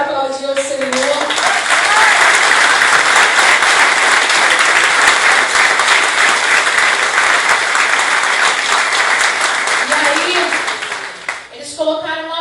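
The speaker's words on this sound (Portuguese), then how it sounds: "Se você quiser aplaudir o Senhor." Congregation at a church service breaks into loud, sustained applause, a dense wash of clapping lasting about ten seconds, with brief speech at the start and end.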